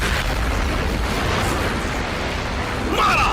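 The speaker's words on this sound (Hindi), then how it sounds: "उसी पल शेफ ने बैटरी से वायर जोड़ दिया और अगले ही सेकंड जोरदार विस्फोट हुआ।" A loud blast from a battery-wired explosive rumbles through a dense, noisy roar, followed near the end by a brighter crackling burst.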